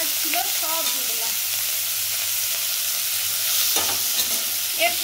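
Kadai chicken ingredients frying together in a little oil in a pan, a loud continuous sizzle with occasional scraping stirs, no talk.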